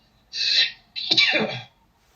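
A single close sneeze, a hissing intake breaking into a sharp, voiced burst, alone in a quiet room.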